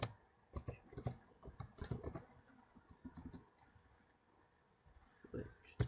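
Keys on a computer keyboard are typed in short irregular bursts of clicks, close and fairly quiet, with a pause near the end before a final few taps.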